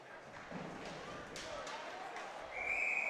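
A referee's whistle at a college ice hockey game in Lakeland Ice Arena gives a sharp, sustained blast near the end, following muffled thuds and rink noise.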